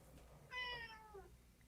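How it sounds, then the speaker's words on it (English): A pet cat gives one clear, drawn-out meow close by, rising then falling, against a quiet room. "Hi, G3's cat"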